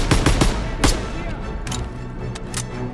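Bursts of machine-gun suppressive fire in a Call of Duty: WWII battle at a bunker, loud close rattles early then sparser distant shots, with shouted soldier voices mixed in.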